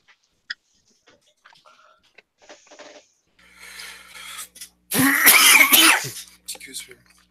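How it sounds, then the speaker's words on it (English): A person coughs once, a loud, harsh burst near the microphone after a stretch of quiet shuffling and faint sounds. "That sounds like a sick person cough"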